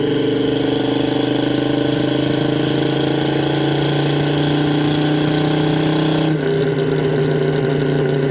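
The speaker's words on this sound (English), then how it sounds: "It's got a Flowmaster style muffler on it, so it sounds good going down the road." A 1969 Chevrolet Chevelle with a 4-speed, dual exhaust on manifolds and a Flowmaster-style muffler drones steadily and loudly while driving, its low exhaust rumble shifting in tone near the end as the throttle changes.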